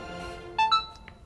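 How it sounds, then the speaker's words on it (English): An electric bike gives a confirmation beep while going into backup unlock: two short, bright electronic tones in quick succession, then a faint fading blip, fairly quiet. "You hear a confirmation sound, and then your bike is in backup unlock state."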